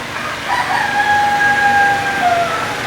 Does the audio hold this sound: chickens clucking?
yes